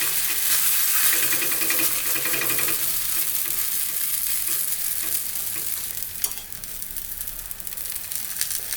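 Wheat roti dough spread on an oiled dosa griddle sizzles and hisses steadily up close, with occasional scraping and tapping of a utensil against the pan.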